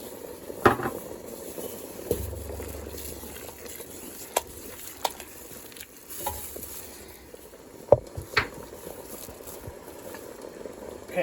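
Shrimp jambalaya simmering in a pot on the stove, a soft steady bubbling hiss broken by occasional clicks and utensil knocks, close and moderately loud.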